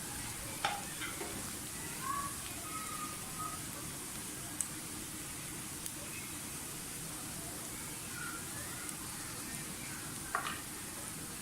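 Onions frying in a pan for qeema give off a steady, soft sizzle with faint stirring scrapes now and then, low in level and with no talking.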